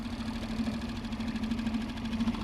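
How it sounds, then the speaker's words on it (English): A small boat's outboard motor runs steadily in sheltered waters, a faint, even mid-pitched buzz with a light rapid pulse and no talk over it. "I put the outboard on."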